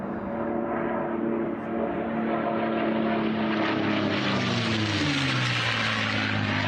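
WWII propeller fighters, a Bell P-63 and P-51 Mustangs, drone loudly overhead at an air race, a steady roar of piston engines with pitch sliding downward as they pass.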